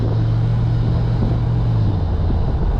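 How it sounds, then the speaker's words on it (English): A 1972 Oldsmobile Cutlass Supreme convertible's V8 exhaust burbles steadily, a deep low rumble with a constant droning tone, heard up close for a few seconds without talk. "What a perfect exhaust note."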